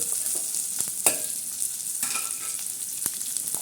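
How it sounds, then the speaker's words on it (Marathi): Garlic tempering sizzling in hot oil, a steady bright hiss with a few sharp clicks and utensil knocks scattered through it, close and moderately loud. "असा मस्तपैकी असा लसणाचा तडका द्यायचा"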